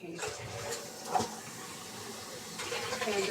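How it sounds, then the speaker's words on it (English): A toilet flushes in a home bathroom, rushing and gurgling water that swells near the end, with faint bits of voice mixed in. "I'm gonna flush just in case."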